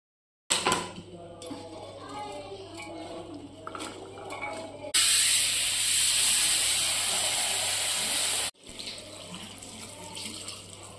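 A pressure cooker of chopped vegetables for pav bhaji hisses steam in a kitchen, a steady, loud rushing hiss that surges for a few seconds over softer running-water and clinking sounds.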